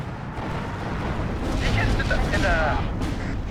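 A plane blown apart and crashing in a Steel Division 2 battle, heard as a sustained, loud roaring rumble of explosion and debris with a whooshing trail, while someone speaks over it.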